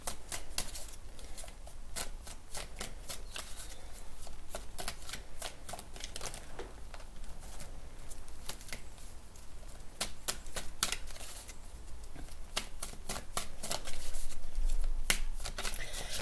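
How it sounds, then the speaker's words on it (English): Tarot cards shuffled by hand, a rapid run of crisp riffling snaps and flicks, close and fairly quiet, continuing steadily without speech. "When I was pre-shuffling there"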